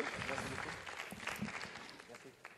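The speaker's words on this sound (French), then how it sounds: "On vous applaudit bien fort, monsieur." An audience applauds a trophy winner at a hydrogen industry awards ceremony, a dense, continuous clapping that fills the room and slowly eases, with a voice speaking over it.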